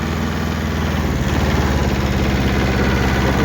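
Tractor engine running steadily at close range as it pulls onto a road in winter, a loud continuous low rumble with a rhythmic throb and no talk.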